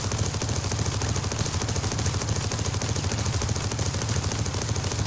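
Autocannon fire in the TerraTech multiplayer game, a dense, continuous rapid-fire rattle of shots at steady loudness throughout, with no voices over it.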